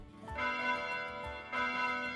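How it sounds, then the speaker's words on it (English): A church-like bell rings in a visual novel game, struck twice with clear ringing tones that hang and decay between strikes, heard alone at moderate, slightly distant volume. "I look up to the ceiling instinctively at the distant yet clear sound of a bell ringing."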